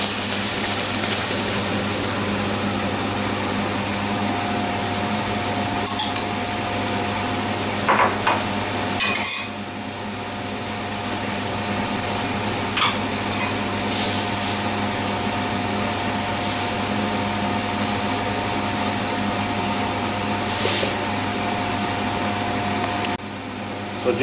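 Mango puree heats in a kadhai over medium flame for mango Mysore pak, giving a long stretch of steady low hiss. Occasional scrapes and clinks of a utensil against the pan rise above it, with one sharp knock near the middle.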